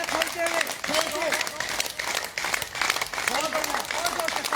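Many people in a yoga class clap hard in a thick, continuous rhythm, loud and close, with an instructor's voice cutting through above the clapping.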